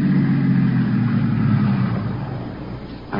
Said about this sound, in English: Now, there's a car out there.